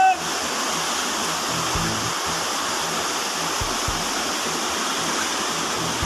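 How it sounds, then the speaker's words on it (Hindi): The Shakambhari Devi river in flood, its water rushing in a loud, steady roar close by, with a few low thuds and bumps underneath and no break in the flow. "मां शाकंभरी देवी नदी में भयंकर पानी आता हुआ।"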